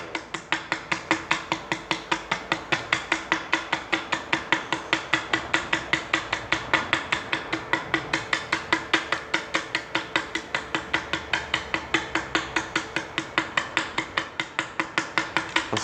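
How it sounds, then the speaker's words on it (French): Rapid hammer blows ring out at close range in a steady, even rhythm of roughly four sharp strikes per second, continuing without pause and with no voices over them. "Ah mais là je vais galérer pour y aller avec le marteau."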